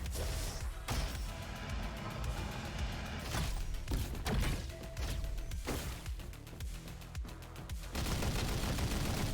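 A gun fires in the shooter Roboquest, with repeated loud bursts and sharp impacts in dense rapid volleys, pausing briefly and then resuming over steady game noise.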